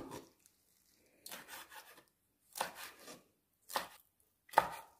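A knife chops fish on a cutting board in four short bursts of quick strokes, separated by brief silences, quiet and close.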